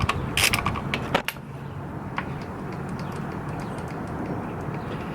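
Metallic clanks and clicks from taking the shift lever off a Kawasaki KZ400 motorcycle during restoration, a few sharp knocks in the first second and a half, then faint scattered ticks over steady low background noise.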